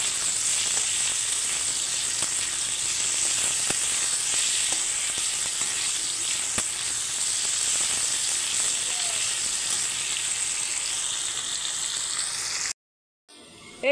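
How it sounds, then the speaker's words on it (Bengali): Salted potatoes frying in a pan for aloo posto give a steady, close, bright hiss with occasional faint crackles, continuing evenly before cutting off abruptly near the end. "এই দেখুন, এই পর্যায়ে আলুগুলো ভাজা হয়ে গেছে।"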